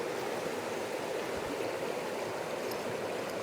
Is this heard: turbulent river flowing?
yes